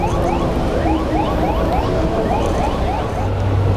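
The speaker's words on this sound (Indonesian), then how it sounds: "Oh, alarmnya nyala." A loud electronic motorcycle alarm wails in rapid repeating upward sweeps, blaring continuously nearby with a rumbling background at an electric vehicle show.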